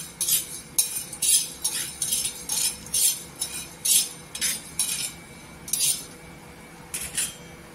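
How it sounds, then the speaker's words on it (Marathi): Coriander seeds dropped onto a hot tawa over a low gas flame for roasting give a series of light, close clinks and rattles, roughly every half second, with a faint hum beneath. "इथे तवा गरम केलेला आहे गॅसवर, इथे धने टाकायचे आपण"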